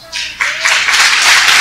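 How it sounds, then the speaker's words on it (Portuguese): A church congregation claps loudly and steadily, the clapping swelling after a quieter start and holding dense and close to the end. "Aplauda bem forte ao Senhor."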